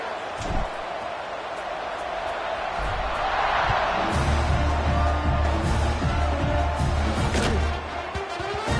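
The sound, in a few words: football stadium crowd buzzing after a score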